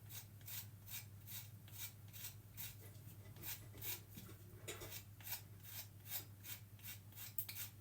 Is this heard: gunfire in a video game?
no